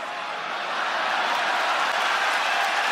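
A UFC fight crowd in a packed arena roars steadily, a dense broadband wash of cheering and applause that holds loud and unbroken throughout.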